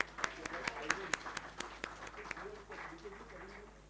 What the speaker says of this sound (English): let's give a huge round of applause for this session